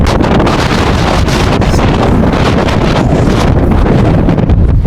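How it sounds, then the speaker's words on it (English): Strong wind buffets the microphone on a city street, a loud, constant roaring rumble with gusty surges that masks everything else throughout. "Okay, this wind is kind of crazy."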